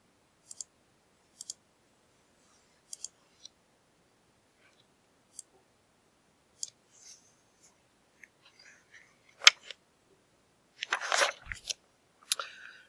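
Sharp, isolated clicks of a computer mouse come in pairs and singles, spaced apart against near silence, followed later by a cluster of scratchier handling noises.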